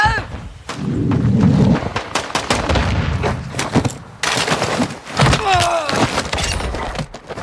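Stun grenade thrown in Modern Warfare, a dense run of thuds, bangs and bursts of gunfire-like impacts, loud and chaotic, with speech-like sounds mixed in.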